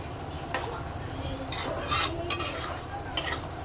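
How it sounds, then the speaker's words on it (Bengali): Potato and vegetable curry bubbles quietly in a pan, a soft low simmer broken by a few faint scrapes and clinks of stirring, with no talking. "তরকারিটা দেখুন ফুটছে"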